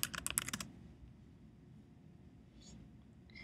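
A quick burst of keystrokes on a computer keyboard types a search query, crisp and close, then gives way to a quiet room with a few faint soft sounds.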